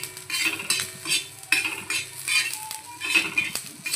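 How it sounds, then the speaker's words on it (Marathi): Masala with ginger garlic paste and onion roasting in a pan, a spoon scraping and stirring in repeated strokes over a steady close sizzle, with no talking. "आता आपण आपला मसाला भाजून घेऊ"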